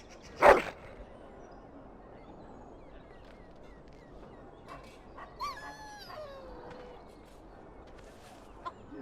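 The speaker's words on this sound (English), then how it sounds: "Puppy!" A puppy in the video game Dragon Age Origins gives a sharp yip near the start, then a few thin whimpering cries midway, heard faintly over quiet game ambience.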